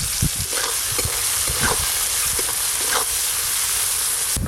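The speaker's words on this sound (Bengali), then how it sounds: "ভাজলে সব লাল হয়ে যাবে, একটু ভালো করে ভাজবে।" River shrimp fry with turmeric and salt on a clay stove, a steady loud sizzle with repeated scraping stirs at irregular intervals, heard alone.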